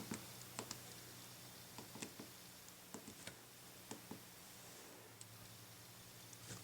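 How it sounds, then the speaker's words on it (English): Soft, sparse key presses on the small physical keyboard of an Amazon Kindle 3, quiet clicks spaced irregularly under a faint background hiss. "I'm just going to start typing The"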